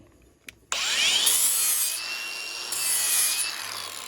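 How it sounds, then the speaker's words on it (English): An angle grinder runs along the back of a lawn mower blade to smooth it: a sharp start, then a loud steady grinding whine that swells and dips over a couple of passes, close and alone. "I'm gonna run my grinder right down the back and kind of smooth off the back."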